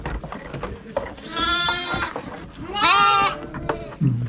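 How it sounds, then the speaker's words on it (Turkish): Lambs bleat in a crowded sheep barn on a mixed livestock farm, with two long, loud wavering calls and several shorter ones overlapping against a busy barn background. "Bunlar da kuzu var."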